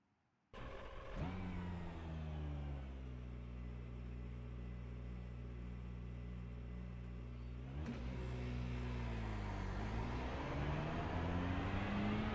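A McLaren GT3 race car engine in a racing game at Fuji, holding a steady, loud drone after a sudden start and then revving higher in pitch near the end.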